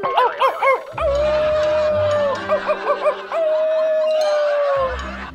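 A dog lets out long, sustained howls broken by short yipping barks, with rumbling noise beneath, fairly close and loud.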